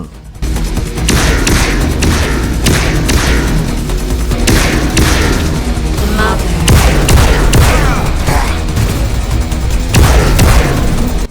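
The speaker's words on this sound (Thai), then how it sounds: "โดยเฉพาะปืนแมกนัมเนี่ยยิงที ปังปัง" Magnum pistol gunshots in the System Shock remake video game, a steady run of loud, heavy, booming shots over a dense backdrop with no talk.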